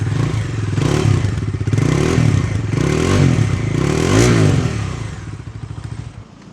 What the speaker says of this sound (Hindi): डोमिनार के एग्जॉस्ट नोट में ना एक एक्स्ट्रा बेस सा है